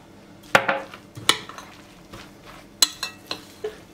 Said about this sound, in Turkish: Kabağı da kattıktan sonra şöyle karıştırıyorum.